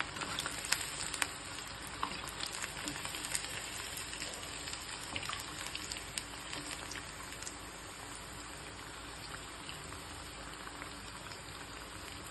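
Chicken 65 fries in hot oil with a faint, even crackling sizzle that holds steady throughout, with no voices.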